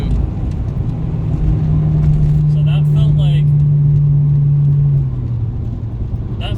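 Acura RSX Type S with a Hondata reflash accelerating, a rising engine drone heard from inside the car under loud road rumble, while people talk over it.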